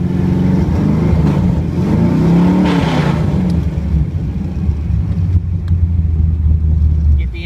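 A hot rod car engine rumbles loudly and revs up as the car pulls away, a deep continuous roar close to the microphone with wind buffeting, while people talk over it.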